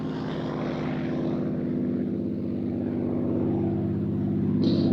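A Supermarine Spitfire propeller engine roars overhead at the Waddington Airshow, a loud sustained drone that swells slightly as the aircraft passes, with no talk over it.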